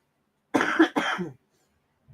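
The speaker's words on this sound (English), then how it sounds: "This cough has been like lingering forever." Two harsh, close coughs in quick succession break the silence, then a brief hint of sound at the very end.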